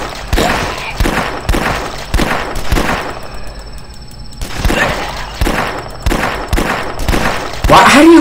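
Gunfire from an online shooter video game crackles in rapid bursts and single shots, loud and close, with short pauses between volleys and faint voices underneath.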